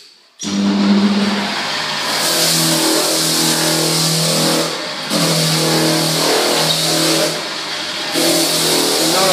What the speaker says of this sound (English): Now I'm diagonal on the floor with the 80 on the sanding machine.